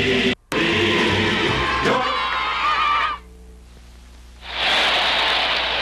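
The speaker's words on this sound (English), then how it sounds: "Listen to the crowd cheering Henry Aaron, the greatest home run hitter of all time." A baseball stadium crowd cheers Henry Aaron in a broad, roaring wash of noise that drops away briefly midway and then surges back.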